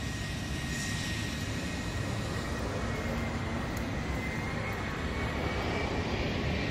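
Steady broadband roar of airliner jet engines with composite fan blades and chevron-edged thrust reversers, a constant unbroken rumble throughout, no voices.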